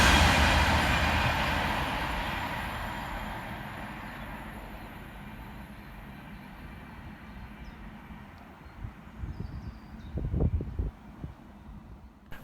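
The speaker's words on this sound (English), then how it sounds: "flying in the opposite direction for Avanti West Coast is 390-151, working 1 Mike 15 from Glasgow Central through to London Euston" An Avanti West Coast Class 390, unit 390-151, races past at Lichfield Trent Valley on a Glasgow Central to London Euston run. A loud, close rushing roar fades steadily into the distance, and a few low thumps follow near the end.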